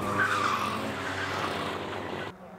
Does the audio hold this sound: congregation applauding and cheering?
no